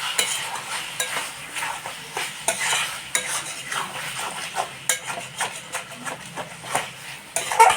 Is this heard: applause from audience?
no